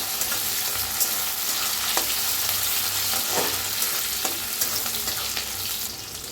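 Coriander leaves frying in hot oil in a pan, a steady broadband sizzle with occasional crackles and stirring clicks, close and continuous without speech.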